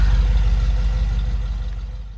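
A Land Rover Discovery 2 engine idles with its newly replaced exhaust, a steady low rumble close by that fades gently toward the end, with no talking.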